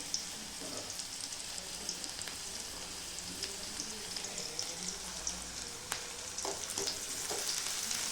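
Onions sizzle and fry steadily in a pan for a potato and pea curry, a soft continuous crackle with faint stirring clicks and no voices.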